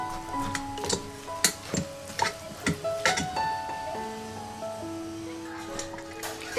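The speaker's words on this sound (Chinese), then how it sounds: "把这个红糖给这个红豆搅拌，使这个红糖给融化" A spoon scrapes and knocks against a hot pot while stirring cooked red beans with brown sugar to melt it for homemade bean paste, giving irregular close scraping taps under a person talking.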